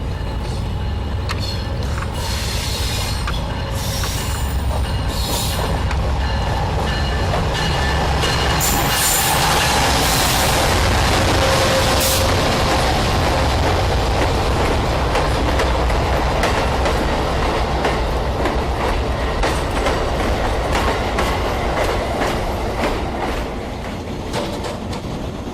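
An Amtrak passenger train pulls into the Charlottesville, Virginia station, a loud continuous rumble with clattering wheels and bursts of high squeal from the rails, heard close up with no talking.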